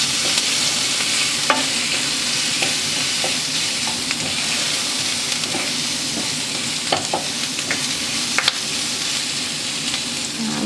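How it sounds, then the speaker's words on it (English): Garlic and ginger paste fry in a pan for a chickpea curry, making a loud, continuous close sizzle broken by occasional sharp spatula taps and scrapes, with no voices. "add garlic and ginger paste. And I will let it fry a little bit."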